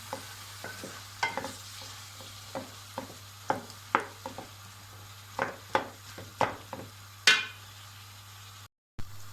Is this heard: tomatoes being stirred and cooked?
yes